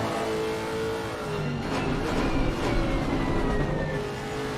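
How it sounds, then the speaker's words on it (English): A big V8 GT3 race car engine revs hard at Paul Ricard circuit, a loud continuous roar rising and falling as it accelerates past, with no talk over it. "That's a beautiful sound out of that engine,"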